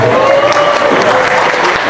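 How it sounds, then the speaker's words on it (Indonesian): An audience at a public talk on Sundanese culture breaks into applause, loud, dense clapping that fills the moment with a steady wash, a voice briefly audible near the start. "Tepuk tangan ya."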